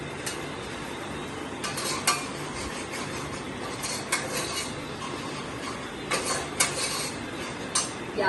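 Onions browning in a pan for homemade nehari, with a steady sizzle and fry hiss, plus occasional stirring scrapes and clinks of utensils against cookware, close and continuous with no talk.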